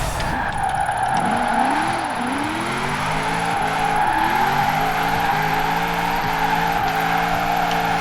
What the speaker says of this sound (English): No, how am I gonna spin out?